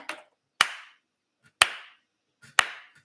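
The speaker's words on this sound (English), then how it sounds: "he would just be clapping like this at a rhythm" Sharp hand claps struck alone at a steady rhythm, three loud, close claps about one second apart, each with a faint softer tap just before it, showing the beat a performer keeps between punches.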